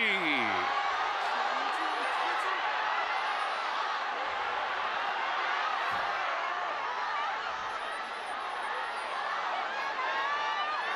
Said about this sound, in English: And you can hear the crowd around us. It's a stacked arena.